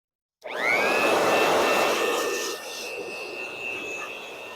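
Compressed air blows dirt off a BMW M54/M52tu engine: a loud, steady rush with a high whine, starting abruptly and easing slightly in level after a couple of seconds, with no talking.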